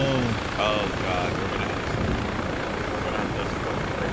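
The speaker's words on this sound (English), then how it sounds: "No problem, I can hear you in the helicopter." A video-game helicopter drones steadily throughout, its rotor noise filling the background, with a few brief tonal game sounds near the start.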